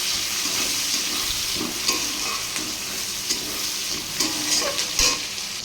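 Onions frying in hot oil with panch phoron and bay leaf for a prawn and taro curry: a steady, close sizzle with occasional stirring scrapes and small pops throughout.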